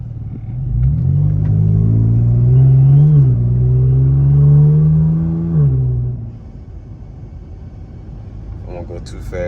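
A car with a boosted 3.6 engine pulls away on a residential road, its engine droning loud and close and rising in pitch with two shifts, then fading to a quieter roll before a brief clatter at the end.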